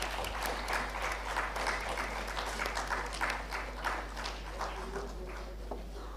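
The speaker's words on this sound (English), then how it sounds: "A big round of applause for all the winners." Applause at a sustainability education conference plenary session as award winners are honoured, a steady, fairly distant crowd clapping continuously throughout.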